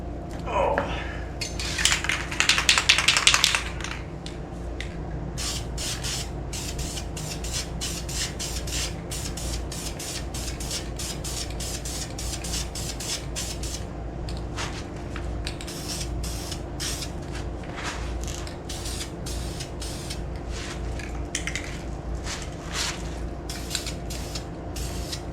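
Spray can hissing as a 1981 Corvette timing cover is painted black, with a sustained loud burst early on followed by many short clicking bursts over a steady low background hum.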